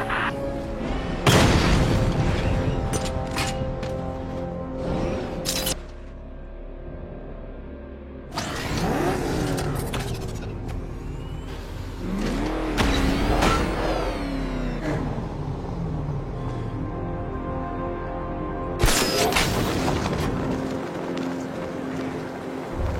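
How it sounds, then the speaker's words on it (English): In Batman: Arkham Knight, a vehicle swerves and crashes, giving loud booming impacts and roaring engine surges with sweeping whooshes, separated by stretches of rumbling, wind-like noise. "The Arkham Knight's vehicle swerved and crashed up ahead."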